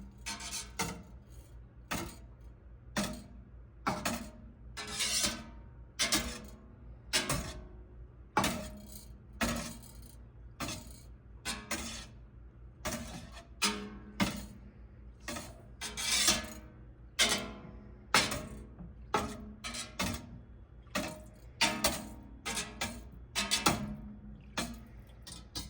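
A whisk strokes milk up and down in a metal pot while making traditional mozzarella, giving a long, even series of bright clinks and scrapes repeated in a steady rhythm, close and clear with no talking.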